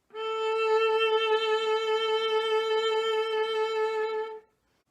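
A sustained bowed string note held for over four seconds, its pitch wavering gently and slowly, played alone and ending cleanly.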